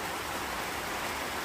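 Steady, dense hiss of falling rain, even and unbroken throughout, with no voices.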